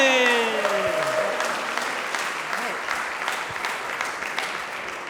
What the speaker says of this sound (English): Please start clapping, start clapping, start clapping, start clapping.